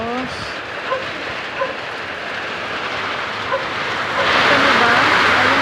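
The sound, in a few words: heavy rain pouring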